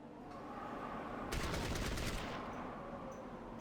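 A short burst of automatic gunfire from the Fallout Tactics video game, rapid shots packed into about a second and fairly quiet overall, with faint ambient game sound before and after.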